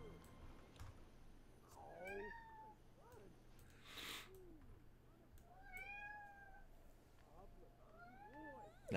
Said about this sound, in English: Now that's a real cat.